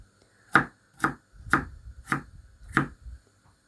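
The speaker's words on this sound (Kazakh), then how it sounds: "Осылайша картошкамыз турап болған соң" Five sharp knife chops through potatoes on a cutting board, evenly spaced about half a second apart, close and crisp with quiet pauses between.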